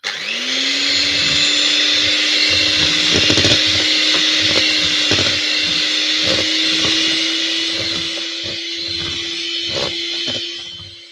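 An electric mixer or blender whirs loudly and steadily while whisking ingredients for a lemon tiramisu, with a rising motor tone that holds for the whole stretch alongside rattling and knocking against the bowl.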